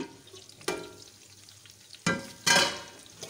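Onions sizzle in a hot pan with a steady frying hiss, broken by a few louder bursts as they are stirred.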